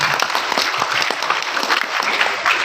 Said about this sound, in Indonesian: Tepuk tangan untuk para guru.